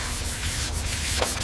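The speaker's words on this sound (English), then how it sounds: "The rhythmic hum of the orbital sander fills the shop" Continuous abrasive hum and rubbing of an orbital sander working a metal surface in a workshop, steady and close, with slight pulsing throughout.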